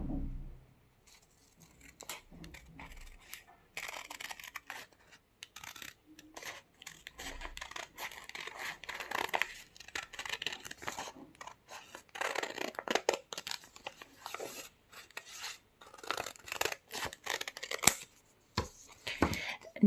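Scissors snip through velvet fabric being cut for a gandoura, giving a string of crisp, close cuts with soft rustling of the cloth in between and a quiet voice now and then.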